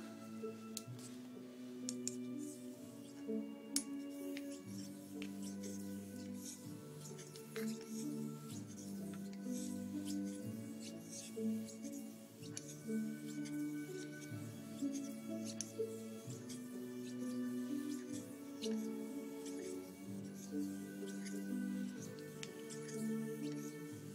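A straight razor honed on a sharpening stone gives faint, irregular light scraping ticks, close by, buried under continuous orchestral music.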